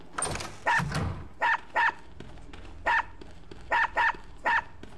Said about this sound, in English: There's a little puppy down there.